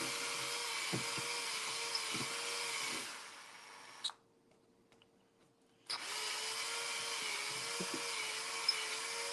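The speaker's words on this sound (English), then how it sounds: "I'm going to just kind of swirl around in there with this drill bit to try to help make it bigger." A power drill spins a bit to widen holes in a homemade birthday card, a steady close whine that stops for about two seconds and then starts again.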